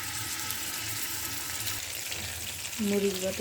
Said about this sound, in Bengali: দিয়ে দিচ্ছি আমি তেজপাতা আর দারচিনি। দিয়ে দিচ্ছি আমি মরিচ বাটা